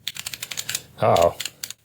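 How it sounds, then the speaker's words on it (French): Computer keyboard being typed on after plugging it in by USB, a rapid run of crisp, close key clicks with a brief louder burst partway through. "on peut taper sur le clavier et quelque chose s'affiche."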